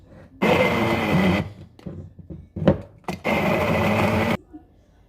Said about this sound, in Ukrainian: блендером ось так всі мандаринки перетерти